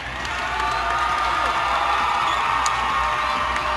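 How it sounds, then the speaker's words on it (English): Dense crowd roaring and cheering at a 2012 VHSL AAA boys volleyball semifinal between Cosby and Great Bridge, a steady loud wall of shouts and whoops from a packed gym with no break across the clip. "Man, you just hear that crowd"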